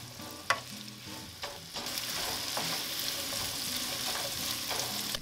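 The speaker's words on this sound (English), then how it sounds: "And when the butter melts," Onions frying in melted unsalted butter for Japanese tonkatsu curry, a steady close sizzle with occasional louder pops and crackles, no voices.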